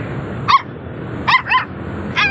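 Several sharp dog barks ring out, a single yelp followed by a quick pair and one more, fairly close over a low background hum.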